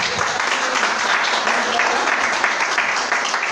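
A Spanish-speaking church congregation at a Friday service applauds, a loud, dense, steady roar of clapping that fills the whole stretch without a break.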